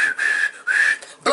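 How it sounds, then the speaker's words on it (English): Two long sustained whistle tones, each held about half a second with a short gap between, followed by a brief burst of sound at the end. "Blow the whistle."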